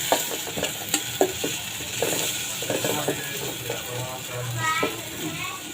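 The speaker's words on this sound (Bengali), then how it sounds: "একসাথে একটু নেড়ে চেড়ে দেব। তারপরে দিয়ে দিলাম পরিমাণ মতো হলুদ গুঁড়ো" Mola fish with turmeric powder is stirred in a frying pan, with a steady sizzle and repeated scraping, clicking strokes of the spatula at close range.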